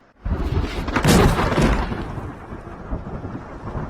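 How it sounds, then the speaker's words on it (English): A deep rumble of thunder breaks in suddenly, swells to a loud roll, then slowly fades into a lingering low grumble. "use the sound of thunder to kick the door open"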